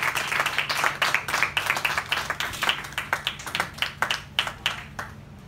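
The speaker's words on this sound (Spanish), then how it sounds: "Aplausos al Señor." Church congregation clapping in a steady, rhythmic beat, each clap distinct and fairly loud, sustained throughout with a low hum beneath.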